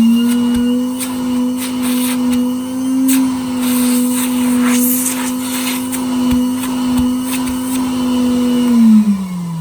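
A 1961 Bylock coffee table vacuum cleaner, leaking air and losing suction, runs at a steady loud motor whine that holds an even pitch, then slows and drops in tone right at the end.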